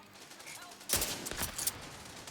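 Scoped-rifle gunfire in a video game: a quiet lull, then a loud cluster of sharp, rapid shots through the middle, tapering into scattered reports.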